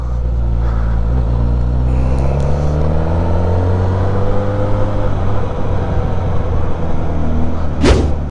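A 2021 Suzuki GSX-S1000 motorcycle with its stock exhaust, a loud deep idle rumble with steady low harmonics that rises and falls slightly, up close with a sharp burst near the end.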